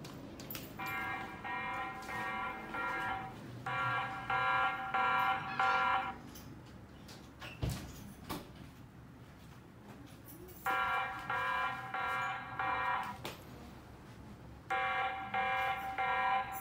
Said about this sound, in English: it creates sounds when alarm is turned on, like this one.